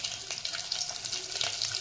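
Whole spices sizzle and crackle in hot oil for a vegetable pulao, a soft steady frying hiss with small pops, heard alone at low volume.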